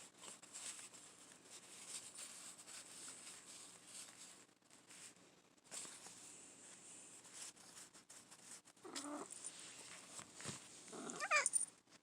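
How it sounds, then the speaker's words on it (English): A house cat meows a few times for attention, fairly faint and indoors, with short calls near the end over a quiet background hum. "I got a cat that's trying to get my attention"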